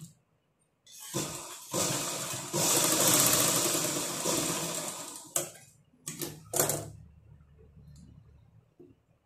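A sewing machine stitches a blouse in several bursts, a long run of rapid mechanical whirring followed by a few short stitching spurts and a small clatter, near and fairly loud, without speech.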